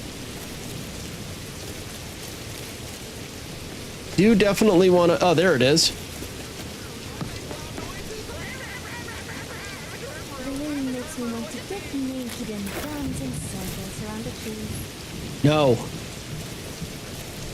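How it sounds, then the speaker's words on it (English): Constant hiss of heavy in-game rain in Skyrim runs beneath the whole stretch, steady and fairly prominent, while someone talks over it in short bursts. "We might not even be able to hear it over this rain."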